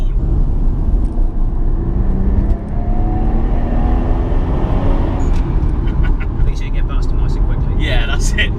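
A twin-turbo MK4 Toyota Supra engine on boost, a loud continuous low roar with rising engine tones sweeping up as the car accelerates, with voices talking over it.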